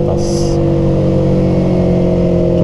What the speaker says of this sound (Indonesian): kali ini kita ditemenin sama back soundnya nih, knalpot ini ya